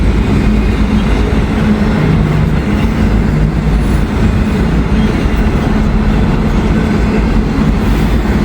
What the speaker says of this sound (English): Big train.